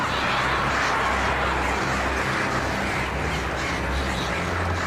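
Crows cawing in the Alan Wake video game, a dense, harsh flock of squawking calls filling the scene continuously at steady, fairly loud volume with no pauses.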